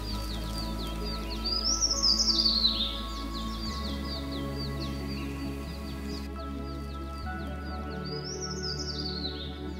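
Western Tragopan calling in the Great Himalayan National Park, Himachal Pradesh, giving two drawn-out, rising and falling bird calls separated by a pause, heard alone over steady background noise with faint chirps from other birds.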